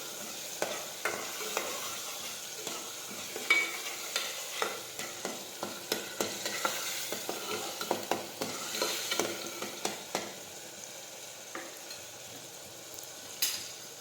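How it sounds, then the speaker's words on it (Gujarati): Spices being stirred into an eggplant and potato curry (ringan bataka shaak) in a pan, with a steady soft sizzle and frequent scraping clicks of a spoon against the pan, close and continuous with no talk. "બધા મસાલા છે તે મિક્સ કરી દઈશું."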